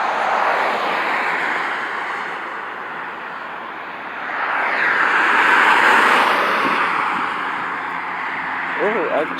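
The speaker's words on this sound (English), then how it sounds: "a pickup truck with a very loud exhaust" A pickup truck with a very loud exhaust passes nearby on a street in Johnson City, a broad roar that swells, peaks mid-clip and fades away, with voices talking underneath.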